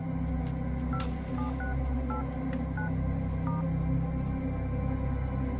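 A phone number is keyed in as a series of about eight short dialing beeps at a brisk, slightly uneven pace, heard over a steady low hum with no talking.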